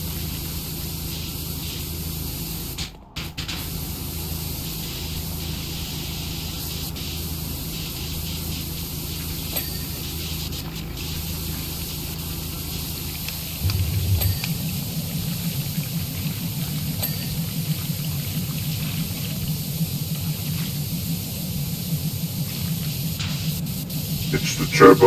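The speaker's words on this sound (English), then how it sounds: "It's the turbo beam cleaner." Turbo beam cleaner in the video game PowerWash Simulator spraying water: a steady, dense hiss of high-pressure spray that runs without a break and grows fuller and louder partway through, with no speech.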